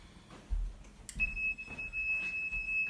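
An infrared race timing gate on an outdoor skijoring course gives a single sustained electronic beep as the beam is tripped, heard against soft background noise.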